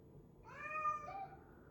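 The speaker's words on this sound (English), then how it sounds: "She's been meowing and freaking out." A single pet cat lets out one clear, rising-then-falling meow, close and fairly quiet, about a second long against a soft indoor background hum.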